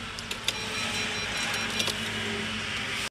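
A Tata Tiago XZ hatchback with starting trouble and a suspect starter solenoid runs with a steady, close, buzzing engine noise dotted with light clicks, then cuts off abruptly.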